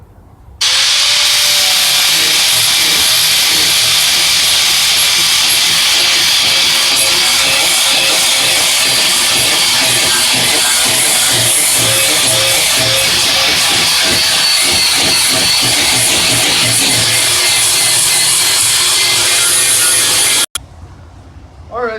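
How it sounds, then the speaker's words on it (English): A power grinder shaping the blade and spike of a homemade war axe or tomahawk: a loud, continuous abrasive roar that runs steadily for about twenty seconds, close up, before cutting off abruptly. "So I'm going to get to grinding. I'm going to cut out the design"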